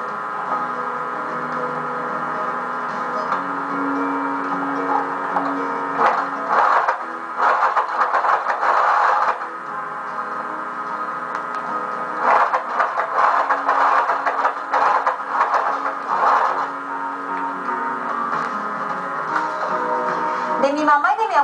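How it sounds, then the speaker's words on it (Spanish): A sewing machine stitches a straight seam on lingerie in bursts, its rapid mechanical whirring starting and stopping several times, with someone talking over and between the runs. "cosemos, costura recta"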